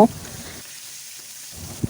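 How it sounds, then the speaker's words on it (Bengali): Spice-marinated baim fish go into hot oil, giving a brief soft hiss that dips quiet in the middle before a short clatter at the end. "তেলটা গরম হয়ে আসলে আমি এখানে সেই মশলা মাখিয়ে রাখা মাছগুলো দিয়ে দিয়েছি মাছগুলোকে একসাথে এভাবে ছেড়ে দিচ্ছি"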